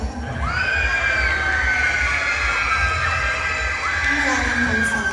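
A pageant crowd at the Queen of Namayan evening cheers and shouts, with high, drawn-out whoops and cries over a loud, sustained crowd roar.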